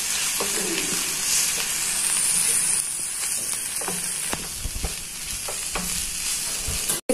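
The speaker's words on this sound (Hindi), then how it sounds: "अब हम इसको अच्छी तरह मिक्स करेंगे।" Chicken spring roll filling stirred and tossed in a hot pan, a loud continuous sizzle with scraping spatula strokes and knocks throughout, ending in a sharp clatter and no voices.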